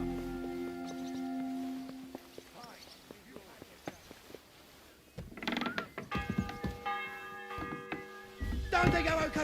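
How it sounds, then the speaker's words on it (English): A church bell tolls in the video game Kingdom Come: Deliverance II, sounding its eleventh and last stroke before an execution, as low resonant strokes ring out amid game sounds, thumps and hoofbeat-like clatter, with a voice speaking over the bell. "The 11th toll of the bell. The last before the execution starts."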